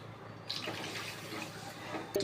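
Two cups of water pour steadily into a pan for semolina upma, with a soft, continuous splashing and trickle, close by and fairly quiet, ending with a small clink.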